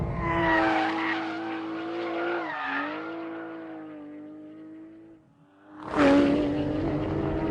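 A rear-engined four-wheel-steer sports car on wide 305-section rear tires screams toward 9,000 RPM with its tires skidding, a loud rising wail that dips, fades briefly, then surges back sharply.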